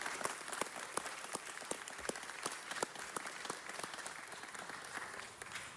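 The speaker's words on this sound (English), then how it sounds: "that deserves a round of applause." Applause from an audience at a Los Angeles City Council presentation honoring airport police officers, a sustained patter of individual claps at moderate distance, steady throughout with no talk over it.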